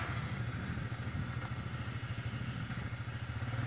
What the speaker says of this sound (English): playing with my four-wheeler